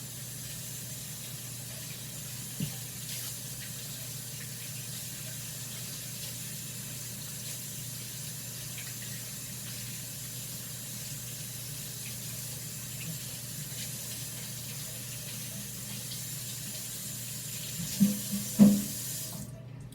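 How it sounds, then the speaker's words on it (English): Water runs steadily from a kitchen tap while hands are washed during turkey burger preparation, a soft continuous hiss throughout, with a few light clinks near the end and no speech. "Let me wash my hands."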